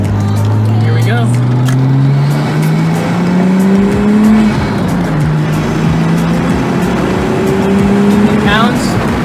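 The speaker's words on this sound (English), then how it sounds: "We're gonna do a pull from second gear, getting onto the freeway." A Nissan R33 with a turbocharged RB25DET engine accelerates hard from second gear onto a freeway, its loud engine note rising steadily through the rev range, dipping at a shift, then climbing again, heard from inside the car with voices under it.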